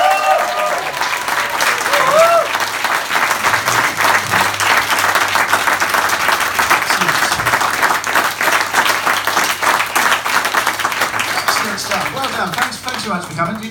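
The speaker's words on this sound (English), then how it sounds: "a round of applause, please, Mr. James Acaster" A comedy podcast audience applauds steadily for a comedian, giving dense, even clapping that lasts around thirteen seconds, with a brief voice at the start and end.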